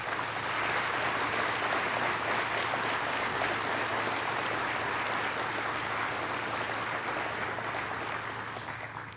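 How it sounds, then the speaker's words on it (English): Sustained applause from a crowd at a community breakfast honoring the police chief and officers, dense steady clapping lasting throughout and tapering slightly at the end. "can we give a round of applause to the police?"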